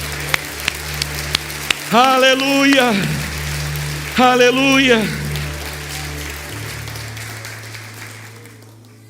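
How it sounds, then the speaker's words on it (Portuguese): A church congregation at a Portuguese-language service applauds in a sustained crackling patter of many hands, while a voice calls out loudly twice over the clapping, which continues steadily to the end. "Se você é grato por essa aliança, a aliança de Cristo, aplauda o Senhor glorificando a Ele."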